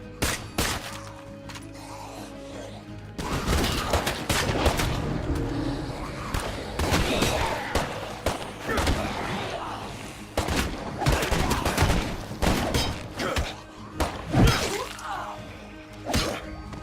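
Shotgun gunfire in State of Decay 2, a dense run of sharp blasts and impacts in quick bursts, loud and chaotic with brief voices mixed in.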